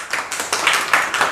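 An audience at an accounting lecture claps in a brief burst of bright, dense applause, several people clapping close by and loud with no talk over it.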